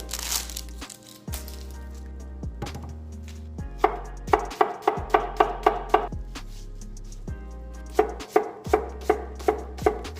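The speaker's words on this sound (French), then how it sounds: "J'enchaîne avec un oignon rouge que je vais couper en cubes." A red onion being diced into cubes on a cutting board, crisp knife chops close up in quick bursts with short pauses between runs, no talking.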